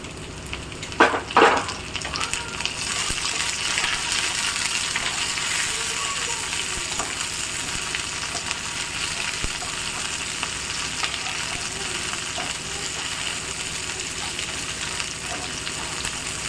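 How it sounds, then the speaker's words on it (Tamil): Steady frying sizzle fills the clip as onions and tomatoes sauté in a pan, with a couple of brief stirring clatters near the start. "இது எல்லாத்தையும் நல்லா வதக்கிட்டு ஆற வச்சுருங்க"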